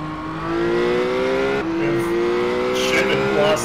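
Mazda MX-5 race cars in an iRacing simulator race drone along under a steady engine tone that rises slowly as they accelerate, with a brief shift-like dip and quieter engines passing in the background.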